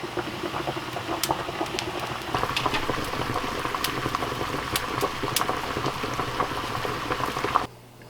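Wax melting in a pot, soft steady bubbling and simmering close by, with scattered sharp little pops, fairly quiet, cutting off abruptly at the end.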